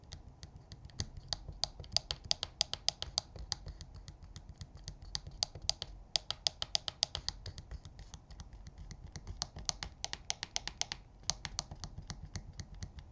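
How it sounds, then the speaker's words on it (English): Rapid, close clicking of laptop keys being typed on, with sharper louder clicks from the physical left and right trackpad buttons mixed in, continuing steadily without speech. "the physical left and right clicks can be a little on the loud side"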